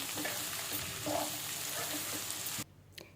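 Beetroot pieces with turmeric being stirred in a frying pan, a continuous close sizzle and soft stirring under it, ending abruptly into near quiet.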